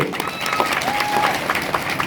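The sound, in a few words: audience applause in tribute to Sushila Durve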